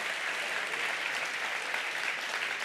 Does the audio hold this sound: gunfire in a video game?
no